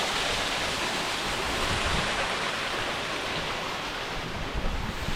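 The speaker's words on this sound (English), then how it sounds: "Yeah, more waterfall." Rushing water from a waterfall in the Superstition Mountains roars steadily and close, a broad, constant hiss mixed with wind buffeting the microphone, with no talking.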